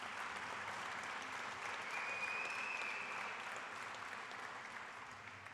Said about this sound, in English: If I could have a round of applause for all of our collision grads.